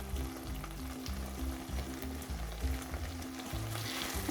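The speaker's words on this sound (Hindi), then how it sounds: "2-3 मिनट तक हम इसे भून लेंगे मसाले को" Green chilli paste, tomatoes and spices frying in a pan, a continuous close sizzle with soft stirring scrapes and no talk.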